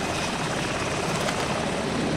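A military helicopter in the video game ArmA 2 drones steadily, the rotor and engine noise loud and continuous throughout with no voices over it.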